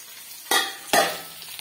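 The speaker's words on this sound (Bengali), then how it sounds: "এবার আমি ঢাকনা তুলব।" A lid comes off a pot of potato and eggplant cooking on a gas stove with two quick metallic clanks, then a faint simmering hiss fills the quiet.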